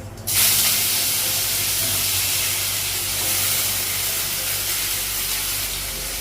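Potatoes dropped into hot oil with nigella seeds and dried chillies burst into a loud, sudden hiss that stays strong and steady for several seconds, close up with no talking.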